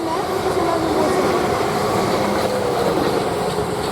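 South Western Railway Class 444 electric train passing close at speed at Queenstown Road on the South Western Main Line, a loud continuous roar of wheels and rails with faint clatter and a trace of squeal.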